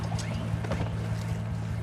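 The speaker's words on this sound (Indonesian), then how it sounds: "menyusuri jalur sungai dengan menggunakan perahu mesin" A motorboat moving along a river, its engine a steady low throbbing drone up close, with splashing water and wind noise over the top.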